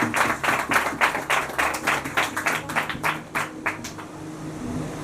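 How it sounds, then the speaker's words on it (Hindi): A church congregation claps together for several seconds in fast, dense applause that swells and fades in waves, then dies down into a quieter room murmur. "जोर से प्रभु के वचन के लिए ताली बजाएंगे।"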